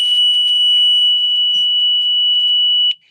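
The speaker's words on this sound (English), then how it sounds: "that's just a constant frequency buzzer" A steady, constant-pitch electronic buzzer tone sounds continuously at a loud level, with slight flutter and no voices, then cuts off abruptly near the end.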